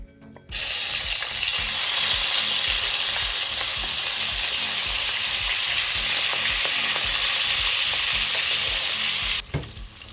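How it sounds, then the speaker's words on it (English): Prawns sizzle and crackle steadily in a hot pan, a loud, continuous frying hiss with occasional stirring clatter, for egg fried rice. "please fry your prawns"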